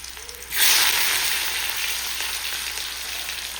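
Chopped onion, chili and tomato hit hot oil in a pan with a sudden loud sizzle that holds as a steady, close frying hiss, easing off slightly, with no speech.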